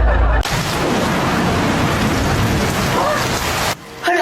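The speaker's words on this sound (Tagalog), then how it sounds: "Hala, ang lakas ng ulan." Heavy rain pours in a loud, dense, steady roar that starts abruptly and runs for several seconds before cutting off sharply, with no voices over it.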